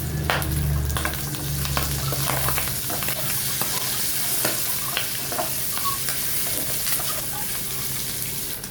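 Pork and ginger sizzle and crackle in a frying pan, with steady hissing frying noise and the scrape and clatter of a utensil stirring the meat throughout.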